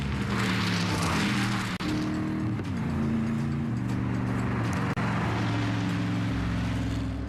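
A Gumpert Apollo supercar drives at a regional airfield, its engine a loud, continuous roar that rises and falls in pitch through several gear changes.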